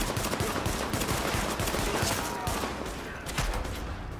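Steady, close automatic gunfire in Tom Clancy's The Division, rapid overlapping shots and bursts that carry on throughout without a break.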